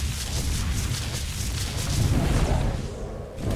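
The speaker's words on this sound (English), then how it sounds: "this is one of the ones where it's got the explosions. Good God, this is crazy loud." Explosions from a dinosaur's attack in the video game ARK Survival Evolved roar as a loud, continuous barrage of booming blasts and rumbling, with no talking over it.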